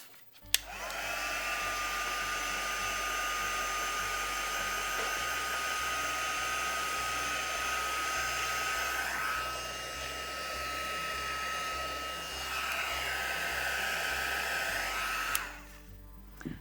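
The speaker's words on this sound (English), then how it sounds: "we're going to give it a good heat set." A heat tool runs steadily for about fifteen seconds while heat-setting a mixed-media journal page, a loud continuous whooshing blower with a high whine that shifts slightly midway, starting and stopping abruptly with no talking.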